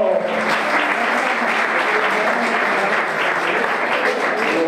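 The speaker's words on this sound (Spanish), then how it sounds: "Ese aplauso para mi amigo Domingo" A crowd at a flamenco night at a peña flamenca in San Pedro Alcántara gives loud, dense applause. It is a steady wash of many hands that stays even for several seconds, with no talking.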